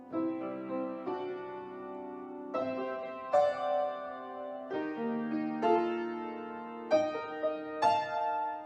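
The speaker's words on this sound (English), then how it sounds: "I'm just going to play a little recording of myself playing the piano" A gentle piano melody of a song plays alone, single notes and chords stepping upward, soft and moderately quiet with ringing sustain.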